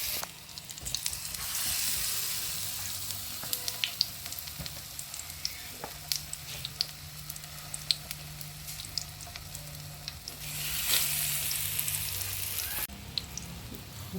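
Potato cutlets coated in gram flour sizzle and crackle steadily in hot oil in a pan, with soft louder bursts as they are turned, alone and fairly close.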